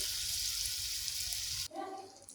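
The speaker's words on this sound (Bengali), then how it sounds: "এর মধ্যে এবারে আমি জল দিয়ে দেবো" A pan of frying potatoes and drumsticks in a mustard-poppy seed dish sizzles loudly until water is poured in, when the hiss drops suddenly into a lower bubbling.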